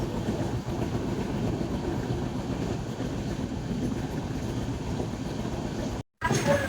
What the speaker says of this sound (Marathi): आता आपली ट्रेन पण आहे मागे, बघू शकता.